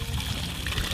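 Creek water from the Medway Creek watershed trickles and burbles steadily at close range, a continuous low wash with soft splashy texture and no voices.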